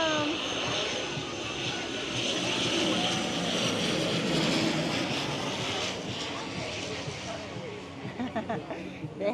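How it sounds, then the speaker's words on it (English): A fixed-wing airplane on approach to St Maarten's airport, its engine roar building steadily and loud for several seconds over a crowded beach bar, with people talking throughout. "that is the airport over there where the planes land. Here comes a plane."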